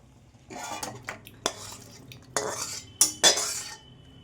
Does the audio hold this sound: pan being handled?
yes